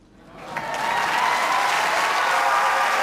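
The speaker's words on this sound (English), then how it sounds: "a huge round of applause for Hereford Cathedral Junior School" An audience at a school choir competition final bursts into applause, building quickly from a few claps into a dense, sustained ovation filling the hall.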